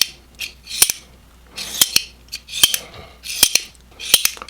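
Reate EXO-M titanium gravity knife being worked repeatedly, giving a series of sharp metallic clicks and snaps in quick clusters, crisp and close with brief sliding scrapes between them.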